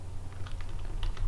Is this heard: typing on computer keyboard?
yes